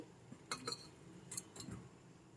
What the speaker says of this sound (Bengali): এখন একটু ঢাকনা দিয়ে ঢেকে দিচ্ছি